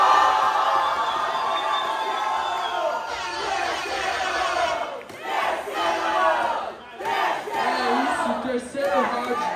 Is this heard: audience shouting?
yes